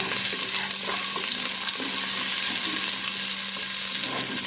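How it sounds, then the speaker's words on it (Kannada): Steady, loud sizzling of tomatoes frying in hot oil, with occasional stirring scrapes and a low hum underneath, no voices. "ಎಣ್ಣೆ ಹಾಕಿ ಫ್ರೈ ಮಾಡ್ತೀನಿ"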